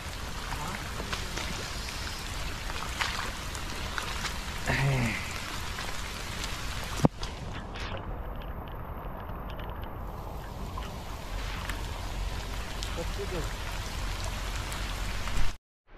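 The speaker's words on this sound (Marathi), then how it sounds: "मित्रांनो, पाऊस एवढा मुसळधार पडत होता" Torrential monsoon rain beats down continuously during a fishing trip, a loud, close, even roar of drops with a brief faint duck-like call early on and a sharp knock midway.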